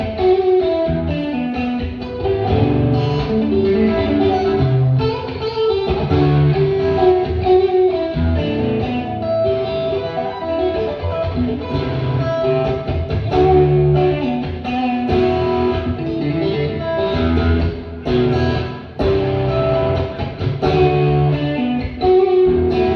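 Distorted electric guitar in a recorded, produced demo, playing dense, layered riffs with heavy effects, continuous and loud throughout with no talking.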